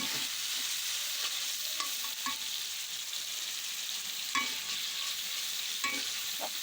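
Shrimp stir-fried in a pan for a sweet pumpkin dish, with a constant close sizzle and hiss and occasional scraping clinks of a spatula stirring, no talk.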